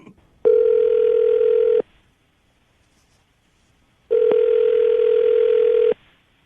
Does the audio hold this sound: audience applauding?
no